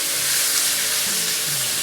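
Seasoned potatoes sizzle steadily in a hot pan as they are stirred, a close, even frying hiss with no talking.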